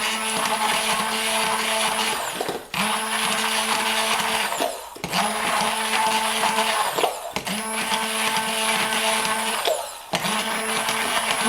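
Handheld electric mixer whirring steadily through egg bite batter, a loud continuous motor drone with harmonic whine, briefly stopping and restarting in four bursts with no talking.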